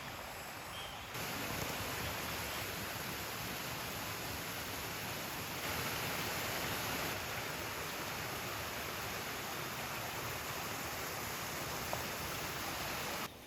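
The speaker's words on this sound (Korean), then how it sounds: "계곡 소리만 시원한 게 아니라" A mountain stream rushes through a wooded valley, a constant broadband roar of flowing water that stays steady and fairly loud throughout, with no voices.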